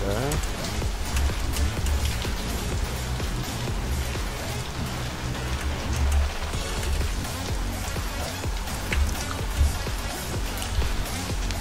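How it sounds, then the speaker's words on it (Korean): Heavy rain pours steadily and close, a dense hiss with scattered patters running without a break throughout. "음악을 끄고 빗소리로 가자고"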